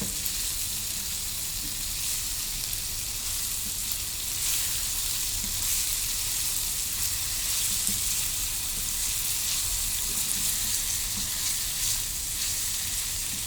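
Vegetables sizzle steadily in a pan while being stirred, a continuous close frying hiss with faint scrapes, no voices.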